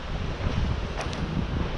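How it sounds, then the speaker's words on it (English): Wind off the north buffeting the microphone at a shoreline park, a low rumbling roar with gusty swells and no talking. "It's a bit windy today."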